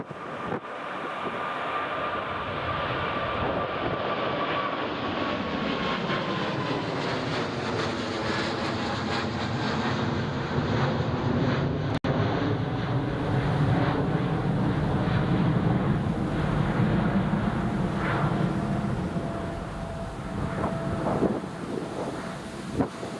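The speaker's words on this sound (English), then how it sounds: "here comes the Emirates, the mighty EK. V1, rotate." An Emirates airliner takes off at Newcastle International Airport in the evening, a long loud jet roar rising and shifting in pitch with steady wind-buffeted rumble and no talking.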